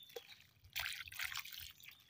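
Liquid organic fertilizer is poured onto soil in a container, a soft, close trickle and splash that starts after a brief drip and continues in uneven bursts.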